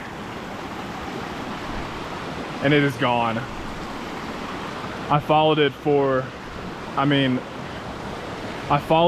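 Mountain creek on Mt. Massive, Colorado, rushing steadily as a broad close wash of water noise throughout, with someone talking over it in short bursts.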